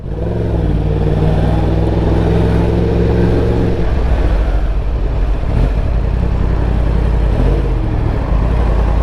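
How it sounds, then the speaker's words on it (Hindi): Dense peak-hour road traffic heard from a moving motorbike in Australia: a steady, loud engine drone with cars rumbling close by, revving and accelerating engine tones rising and falling throughout, and no talking. "अभी पीक आवर्स है इसलिए इतना ट्रैफिक है,"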